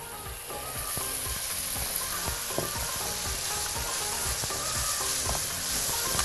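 Onions with spices and a stock cube frying in a pan while being stirred, a constant loud sizzle with repeated scraping spoon strokes throughout, close up and without any voices.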